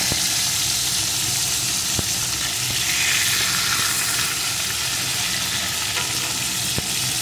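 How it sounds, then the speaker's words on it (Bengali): Hilsa fish fries in a pan with a steady, close, dense sizzle and faint occasional clicks of handling, no one speaking. "মাছগুলোকে আমি এপিট ওপিট করে একটু ভেজে নেব।"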